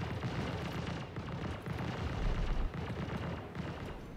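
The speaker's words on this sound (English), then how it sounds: "he just dropped another bomb" Bomb explosions in the video game Star Citizen roll on as a dense, continuous low roar with heavier thuds swelling midway, muffled and somewhat distant.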